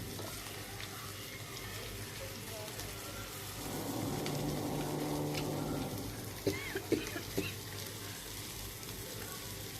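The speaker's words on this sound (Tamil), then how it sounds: "குழம்பு நல்லா கொதிச்சிருச்சு இந்த ஸ்டேஜில் மீனை வந்து சேர்த்துக்கலாம்" Fish curry (meen kuzhambu) simmering in a pot, a steady bubbling hiss that swells louder in the middle, followed by a few sharp clinks near the end, with no talk over it.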